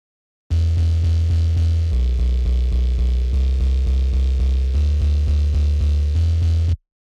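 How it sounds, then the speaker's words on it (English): A deep, punchy synth bass plays a steady repeating pulse, each note hitting hard with a sharp attack, loud and continuous with shifting pitch. "so I kind of made some sort of attack bass here"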